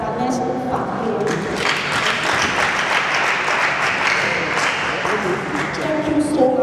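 Loud, sustained applause fills the hall at a badminton tournament's opening ceremony, a close, dense crowd clapping steadily with voices faintly mixed in underneath.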